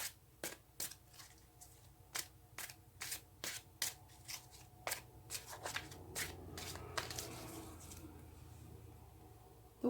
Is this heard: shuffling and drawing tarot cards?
yes